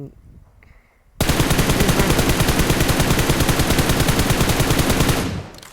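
Sustained automatic rifle fire in PUBG Mobile from a prone position aimed at a tree, a long, loud, close, evenly spaced stream of shots lasting several seconds before cutting off.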